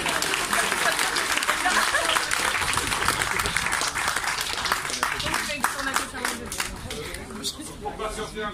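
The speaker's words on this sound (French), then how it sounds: "On peut les applaudir encore un peu." Sustained audience applause at a 2019 Leclerc auto road trip event, dense steady clapping filling the space with a few voices and chuckles mixed in, thinning slightly toward the end.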